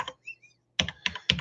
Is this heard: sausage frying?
no